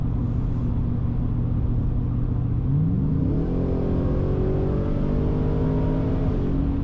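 A 2023 Ford Raptor R truck's engine roars under hard throttle, its steady rumble climbing sharply in pitch as it revs up and then holding a loud, continuous drone, with no talking.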